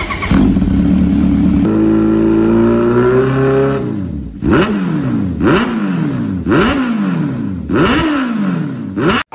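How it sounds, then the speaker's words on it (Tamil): An inline four-cylinder superbike engine, Kawasaki Ninja H2R style, holds a loud steady roar that climbs in pitch, then gives about five sharp revs in a row, each surging up and falling back, close and alone. "கவாசகி நிஞ்சா, H2R மாதிரியான பைக்ஸ்ல இந்த இன்லைன் 4 சிலிண்டர் இன்ஜின்ஸை பார்க்கலாம்."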